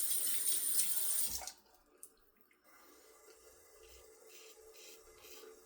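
Water runs from a tap in a bathroom sink, a close steady hiss for just over a second before shutting off, leaving faint quiet drips and room noise.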